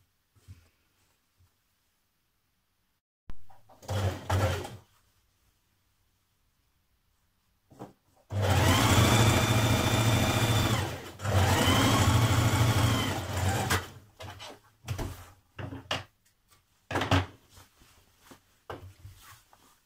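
A sewing machine stitches pocket pieces onto a dress skirt panel in a few bursts, one short run followed by a longer steady whir, with scattered handling clicks and near-silence around them.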